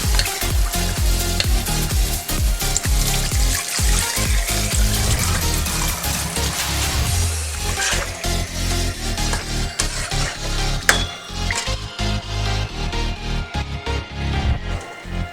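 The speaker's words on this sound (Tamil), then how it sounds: "இப்போ புளி தண்ணி சேர்த்தாச்சு" Tamarind water is poured into a simmering South Indian village-style fish gravy, giving a close, splashing pour over a bubbling sizzle with scattered stirring clatters, which then settles back into steady frying.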